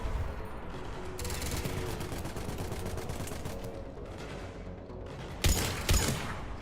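Mass Effect combat gunfire: sustained rapid-fire bursts rattle steadily, then two louder, heavier shots punch through near the end.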